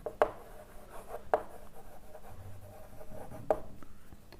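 Handwriting on a lecture surface, quiet scratchy strokes with three sharp taps as the pen touches down, spaced about a second or two apart, otherwise a faint room hush.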